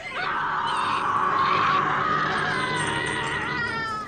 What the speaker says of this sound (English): The screams that she was making were so real that you felt the sound